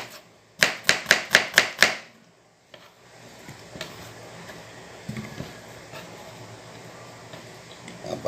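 An onion is chopped on a board with six quick, sharp knife strikes in an even rhythm, followed by quieter, scattered cutting and handling sounds.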